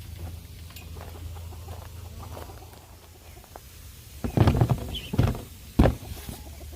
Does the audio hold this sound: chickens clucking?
yes